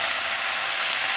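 Vegetables and black cumin frying in hot oil in a wok, a steady, close, loud sizzle that holds without a break.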